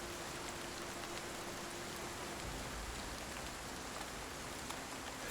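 Steady, dense rainfall in the survival game Project Zomboid, an even hiss of drops pattering on surfaces that stays constant throughout with no voices.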